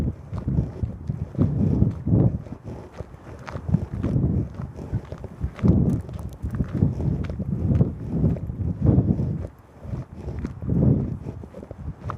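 Blustery wind buffets the microphone at the rim of Mt Wellington near Auckland, gusting in loud rumbling waves through the clip, with no talk.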